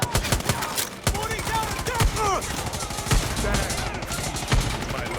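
Dense gunfire in Far Cry 6 rattles continuously, with rapid machine-gun bursts and sharper single cracks layered together while voices talk underneath.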